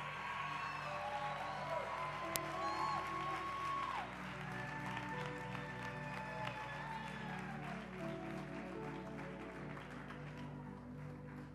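Church congregation applauding the Lord during a Spanish-language sermon, a soft, distant patter of clapping and faint cheering beneath sustained keyboard tones and sliding musical lines, steady for the whole stretch.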